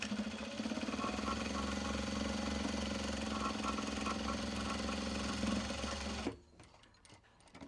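A sewing machine stitches the body of a crossbody sling: a continuous, fast mechanical whir running steadily up close, then stopping abruptly, leaving faint handling clicks.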